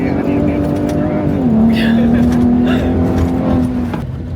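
Ford Raptor trucks race off-road with a steady, loud engine drone and a slight pitch drop partway through, close up, with voices under it.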